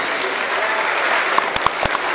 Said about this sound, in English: Please have a round of applause for your academics.